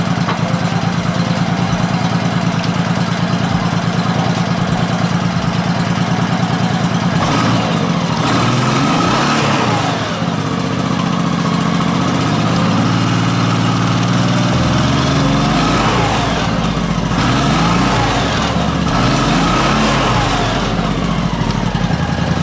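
A motorcycle engine with a gas reserve light thermistor fault, running steadily after being switched back to gas, giving a loud, continuous idle with a low rumble that deepens partway through.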